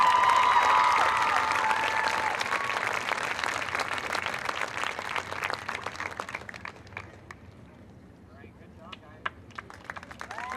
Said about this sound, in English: Another big round of applause for the advanced flag class